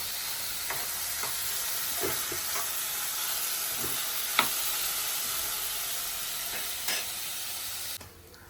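Chopped onions and tomatoes frying in oil for a drumstick thoran, a continuous close sizzle and hiss with scattered scrapes and clinks of a spoon stirring the pan, no talking.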